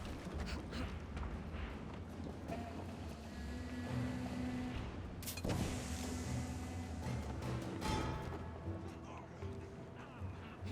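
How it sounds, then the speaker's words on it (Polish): Boat moving across water in the Assassin's Creed Syndicate video game, a steady engine-like drone and water wash running throughout at moderate level, with a brief louder surge midway and a voice talking over it. "ta łódka to tak na tyle szybko płynie, że nie mogę jej dogonić"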